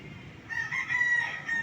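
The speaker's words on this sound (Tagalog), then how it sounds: "Ito yung manok ni San Pedro" A rooster crowing nearby, one drawn-out call rising over faint background noise.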